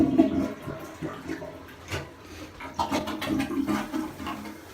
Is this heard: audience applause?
no